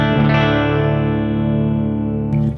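A distorted electric guitar played through an amp with a DOD Death Metal pedal and a speaker-cabinet impulse response rings out as one loud, sustained chord, buzzing thickly before a second strum near the end cuts off.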